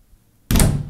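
A sticky apartment door gives one sudden loud thunk as it is forced shut, a close heavy knock of wood after near silence.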